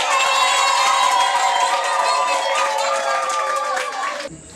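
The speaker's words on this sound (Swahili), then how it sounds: "Hebu kwanza nisaidie kupiga vigeregere." A church congregation breaks into joyful ululation, many high trilling voices layered with shouts and some clapping, loud and sustained for several seconds before cutting off abruptly.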